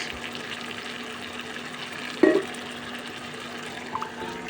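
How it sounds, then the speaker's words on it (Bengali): Half a cup of milk goes into a pan of spiced paneer gravy for white malai paneer, a brief liquid splash over a low, steady cooking hiss, with a smaller splash a little later. "এরপর দিয়ে দেবো হাফ কাপ দুধ"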